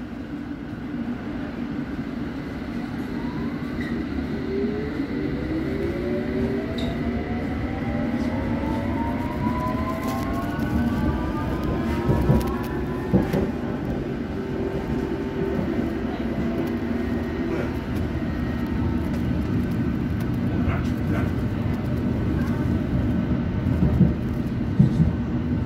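A Hammersmith and City Line London Underground train runs between Wood Lane and Latimer Road, with a steady rumbling roar and rising, gliding tonal whines as it gathers speed, loud and continuous throughout.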